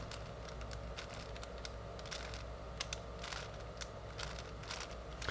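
Faint, quick clicking and rattling taps, irregular and close, as a V-Cube 5 puzzle cube's layers are twisted over and over, its turning slightly bumpy, with a low background hum.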